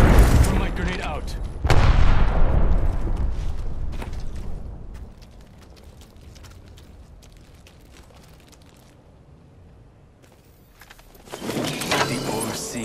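A thrown grenade going off in Apex Legends: a loud boom near the start that decays into a long rumbling tail, then quieter scattered clicks and shots, with someone speaking at times.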